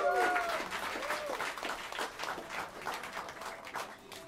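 A jazz club audience at Smalls in New York City applauds a live band, steady dense clapping with some crowd noise filling the room throughout.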